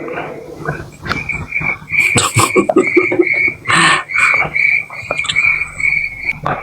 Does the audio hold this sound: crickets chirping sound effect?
yes